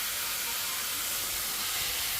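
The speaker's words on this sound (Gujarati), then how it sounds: "હાથ પર તેલ જોરદાર ઉડ્યું" Chilies fry in hot oil with ginger-chili paste for a sev tameta dish, making a loud, dense, continuous hiss and sizzle close up, with no talk over it.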